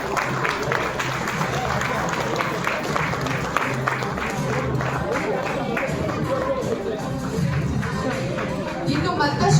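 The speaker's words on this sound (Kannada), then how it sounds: "ಎಲ್ರಿಗಿಂತ ಜೋರದ ಚಪ್ಪಾಳೆ ಬರಬೇಕು." A crowd applauding honoured achievers at a KMPK Charitable Trust ceremony, steady dense clapping that fills the room throughout, mixed with crowd murmur.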